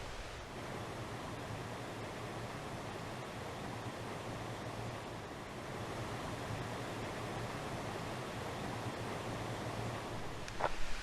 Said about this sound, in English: there's a footbridge here and I can hear the sound of water